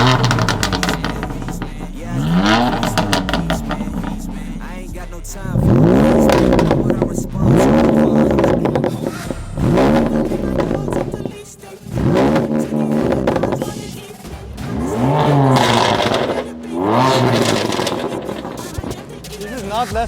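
A BMW M4 fitted with an Akrapovic exhaust revs hard and accelerates in several loud, rising bursts with crackling pauses between them, with music and a voice running underneath.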